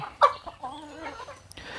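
Young roosters and chickens in a farm flock cluck and call, one sharp cry up front followed by a warbling, drawn-out vocalization and a few scattered clucks, fairly close in a quiet coop.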